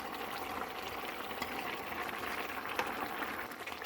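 Korean soybean pulp stew (kongbiji jjigae) with kimchi juice bubbling in a pot over medium-low heat, a continuous close simmering crackle and bubbling with no talking.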